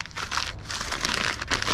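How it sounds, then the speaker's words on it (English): Paper crumpled by hand during a spray paint art session, a continuous crinkly, crackling rustle close to the mic with a few brief pauses, no talking. "Crumple another piece of"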